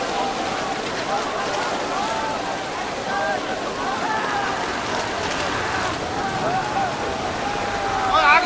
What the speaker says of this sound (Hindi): बारिश तो तमाम चीजों को शराबूर कर देती है